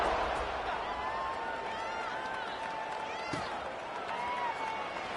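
Stadium crowd in the college football video game CFB 26 after a Georgia score, a constant roaring murmur with faint cheers, heard under a commentator's voice throughout.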